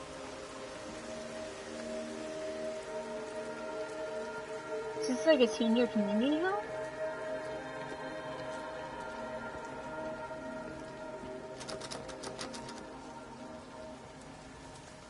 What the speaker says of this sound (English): It's just raining really hard.